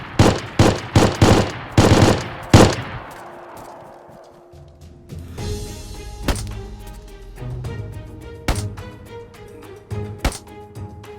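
Loud, close gunfire in the survival game DayZ: a rapid burst of several sharp shots at the start, then a quieter in-game stretch broken by a few more isolated loud shots.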